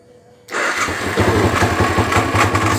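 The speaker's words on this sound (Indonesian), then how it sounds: "Kunci kontak sudah dilepas dalam keadaan off, bisa di starter dari jauh." Yamaha Vixion motorcycle fitted with an alarm starts remotely without the ignition key, a quiet moment broken by the starter catching, then a loud, close, steady idle with a rhythmic pulse.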